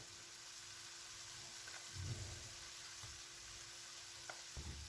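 Onion and green chilli sautéing in a pan with chilli powder being added, a faint, steady sizzle with a few soft stirring scrapes, no talk.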